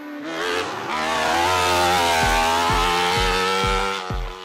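A motorized bathtub built on a chassis with wheels and a 1000cc motorcycle engine revs loudly, its pitch climbing and then stuttering through a rhythmic series of gear changes or backfires, close and alone.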